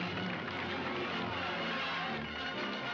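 Helicopter in a scene from Richard Donner's Superman film, a steady broadband engine and rotor roar holding even throughout, fairly loud with no speech over it.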